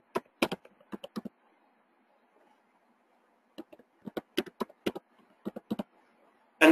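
Fingers type a password on a computer keyboard in short bursts of quick, close keystrokes separated by a silent pause, with no talking.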